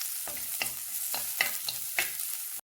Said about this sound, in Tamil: சின்ன வெங்காயம் சேர்த்ததுக்கப்புறமா ரொம்ப நேரம் வதக்கணும்னு இல்லை